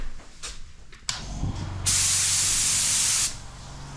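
A compact home-use air compressor drives a 1.8 primer spray gun in a garage: brief hisses and clunks, then a loud steady spray burst of about a second and a half, close and with no talk.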